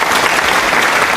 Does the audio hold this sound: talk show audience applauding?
yes